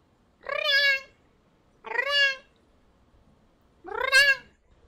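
A cat meows three times, each call loud, close and drawn out, with pauses of about a second between them over a quiet background.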